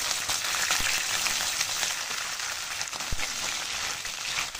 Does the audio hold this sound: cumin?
yes